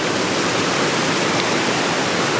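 Rogue River water rushing and churning into a cave at a natural bridge, a loud, steady broadband roar of turbulent flow that fills the whole stretch without pause or voices.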